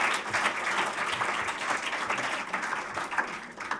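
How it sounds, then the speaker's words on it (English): An audience at a volunteer awards ceremony gives a winner a round of applause. Many hands clap in a steady, full wash from the hall that eases off slightly toward the end. "So Nick, round of applause, well done."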